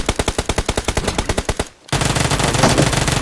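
Gunfire in the video game PUBG Mobile: a rapid, evenly spaced burst of about fifteen loud shots, a brief pause, then a denser roar of continued fire, all close and prominent.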